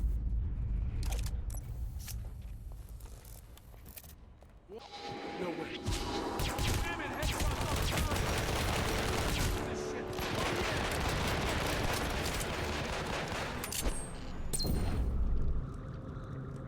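Gunfire in the stealth game Hitman Absolution: a few scattered early shots, then sustained bursts of rapid fire and booming impacts filling most of the stretch, loud and close, with a voice talking over parts of it.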